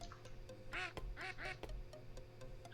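Quack Duck, a cartoon duck character in the indie video game Shmubedi Boo, lets out two clear quacks in quick succession, close and fairly loud over a steady game background hum with soft clicks.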